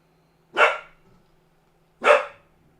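A dog gives two loud, separate barks about a second and a half apart, close by, with a low steady hum underneath.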